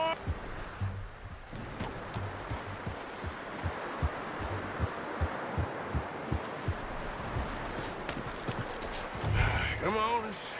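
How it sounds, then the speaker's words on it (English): Horse hooves clip-clop steadily in Red Dead Redemption 2, a regular even rhythm of close, fairly loud footfalls running through the whole stretch with light rustling beneath. "I'm gonna hitch Taima over here."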